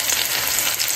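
Onions frying in a pan give off a dense, continuous sizzle, close and fairly loud. The crackling hiss runs unbroken through a brief moment, with no speech.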